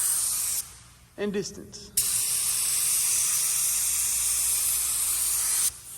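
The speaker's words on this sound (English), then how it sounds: "I spray my fluid all the way open, and I'm really close" A paint spray gun with its fluid set fully open sprays a loud, steady hiss from close range in two long bursts, separated by a short pause in which someone speaks briefly.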